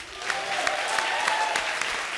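A studio audience at a comedy show breaks into loud, dense clapping that holds steady for a couple of seconds with no voices over it.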